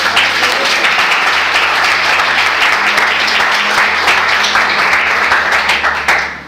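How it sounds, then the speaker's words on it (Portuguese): A church congregation applauds steadily for about six seconds, a dense, loud wash of clapping that holds throughout and tapers slightly at the end. "Você pode aplaudir o Senhor?"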